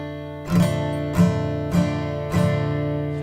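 A guitar chord is strummed four times while the first finger holds a note and mutes the strings behind it. The evenly spaced strums ring close and clear, each decaying before the next, with no talking.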